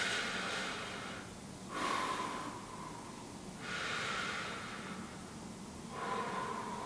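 Slow, deep breaths during a seated fascial stretching routine, three long airy inhales and exhales spaced evenly, close and soft, with no talking.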